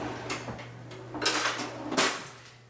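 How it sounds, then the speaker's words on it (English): Flour and dry ingredients for banana bran chia muffins being sifted in a kitchen, giving soft rustling, shaking bursts with light clinks of utensils against a bowl, close by and fairly quiet, over a steady low hum. "I like to sift my flour and my dry ingredients."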